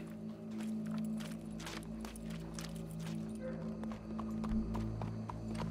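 Hooves clip-clop at a walking pace over a steady low hum, with faint background voices; the horse sounds moderately distant.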